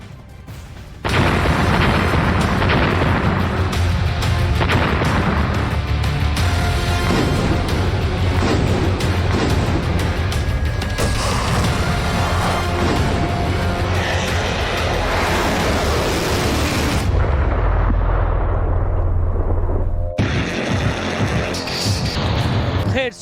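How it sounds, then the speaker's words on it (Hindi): Loud, continuous rumbling roar of a large explosion near a power plant in Kherson, captured in news footage, a dense wall of booming noise that persists for many seconds with shifting low-end intensity. "पावर प्लांट के करीब ये बड़ा धमाका हुआ है, जिसकी तस्वीर आपके सामने है"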